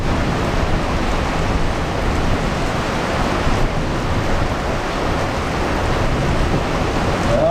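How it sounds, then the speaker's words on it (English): Thunderstorm downpour in Jefferson, Wisconsin, with rain and hail falling hard: a loud, steady, dense roar of hissing patter that holds unbroken throughout, with no talking. "Well, we're getting some rain."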